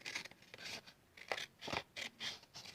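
Scissors snipping through cardboard box flaps in a handful of short, close, irregular cuts with quiet pauses between them.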